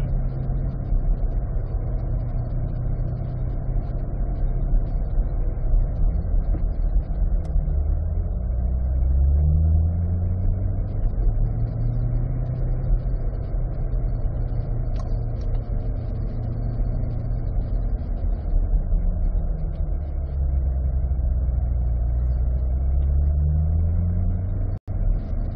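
A car rolls steadily through a driving school course, its engine droning continuously with gentle rises and falls in pitch as it accelerates and eases off, heard from inside the cabin with no talking.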